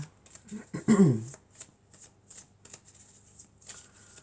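Oracle cards from a triad deck are shuffled by hand, a burst of riffling followed by a series of soft, evenly spaced card taps close up.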